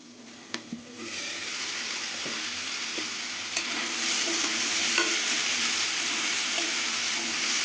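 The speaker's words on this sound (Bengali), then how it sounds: "এবার আমরাটা কিছুক্ষণ ভাজবো একটু ঢেকে ঢেকে ভাজবো" Young hog plums fry in a pan, partly covered: a couple of sharp utensil clicks at first, then a continuous bright sizzle that swells slightly louder and stays steady, close by and without talk.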